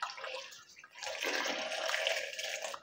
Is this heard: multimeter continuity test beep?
no